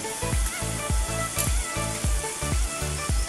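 Hot oil tempering sizzles loudly with turmeric added for a black lentil curry. A steady, close hiss runs under regular, rhythmic stirring strokes, with no talk.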